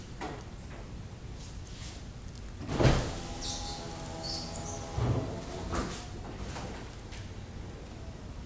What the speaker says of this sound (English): This is the top going down with the remote.